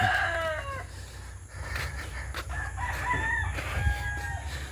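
Chickens cluck and a rooster crows in a rural yard, with the crowing repeated at moderate distance over a steady outdoor background.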